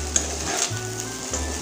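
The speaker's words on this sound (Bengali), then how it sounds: "এখানে দেখুন বাসি ভাতটা আমি অনেকটাই ভেজে নিয়েছি দেখুন" Leftover rice fries loudly in a pan with spices, a continuous close sizzle broken by scraping stirs as a spatula moves it around, with no talking.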